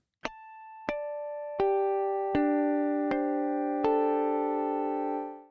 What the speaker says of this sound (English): starting off with this baritone guitar DI harmonics sample